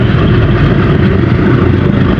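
A cruise ship's engine gives a loud, continuous low rumble that holds steady, with no pauses or changes in pitch.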